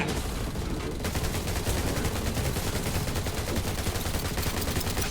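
Rapid, dense gunfire from the survival shooter Undawn, a continuous loud burst of automatic shots rattling without pause under faint voices.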